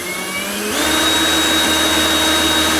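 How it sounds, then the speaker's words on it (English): A power drill drives a 1964 Dodge Polara 500 speedometer on a bench, starting with a low rattle and then spinning up to a steady, loud whirring hum with a high whine that climbs and holds. "Put the drill in the back of the speedometer."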